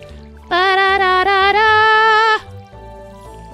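A watering can pours over crops in the farming game Stardew Valley: one sustained, bright watery tone about two seconds long, loud and alone, then a quiet tail.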